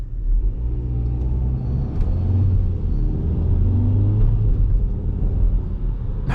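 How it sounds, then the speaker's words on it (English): The Mitsubishi petrol engine of a 2024 Forthing T5 EVO hums in a deep, steady rumble from inside the cabin while driving at night, with a low droning tone that swells slightly and no voices. "Now you can hear the petrol engine. Again, it's a Mitsubishi's petrol engine"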